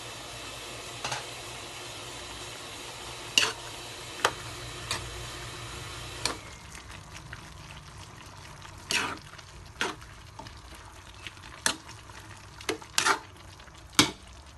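Ground pork and potatoes fry in a pan with a soft, steady sizzle, broken by sharp clacks of a utensil stirring against the pan, heard up close.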